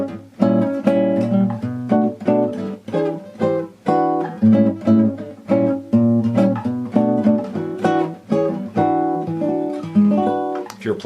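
Guitar strums a sequence of jazz-voiced chords with diminished passing chords, steady rhythmic attacks, close and clear with no talking.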